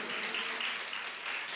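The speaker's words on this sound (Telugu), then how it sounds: "చప్పట్లు కొట్టి ప్రభువును మహిమపరచండి." A church congregation claps hands during a worship service, giving a steady, dense wash of applause that fills the whole clip at moderate loudness.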